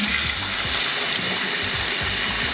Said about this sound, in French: ouvre le robinet